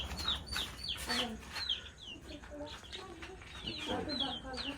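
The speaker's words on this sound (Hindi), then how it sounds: "ये हमने मुर्गी एक पकड़ी है" A chicken on a cattle farm clucks repeatedly in short bursts, fairly close, with other fowl calling around it and someone talking over the sounds.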